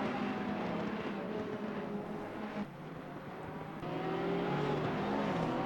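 A race car engine in Assetto Corsa Competizione on the Zandvoort circuit, a steady droning roar at full speed with a rival car close alongside, dipping briefly mid-way before swelling again.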